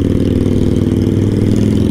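A Harley-Davidson motorcycle engine runs steadily at close range, a loud, continuous low rumble with a dense pulsing throb that holds even throughout, with no talk over it.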